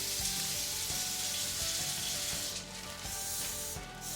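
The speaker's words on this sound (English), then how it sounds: "And then I'm gonna drop it on my skillet." French toast frying in butter on a skillet, a quiet, steady sizzle with faint crackles, heard up close.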